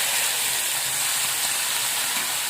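Tomatoes and onion sizzling in hot oil for a tomato chutney, a loud, steady, hissing frying noise close up, continuous without pauses and with no voices.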